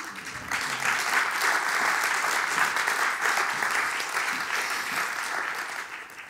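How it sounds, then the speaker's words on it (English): Steady, dense applause from an audience, starting abruptly and holding at an even level for several seconds. "You can applaud if you like."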